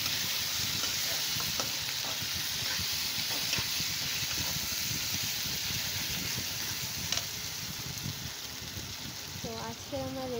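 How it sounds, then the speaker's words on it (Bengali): Potatoes go one by one into a pan of sizzling rohu fish curry and are stirred, with a steady close frying sizzle and repeated scraping stir strokes throughout, plus a brief voice near the end. "এখানটায় আমি একে একে আলুগুলো অ্যাড করে দেবো"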